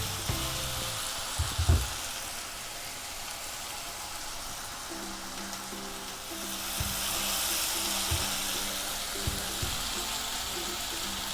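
Kadai paneer masala sizzling steadily in a pan, a continuous close frying hiss with occasional louder pops and crackles.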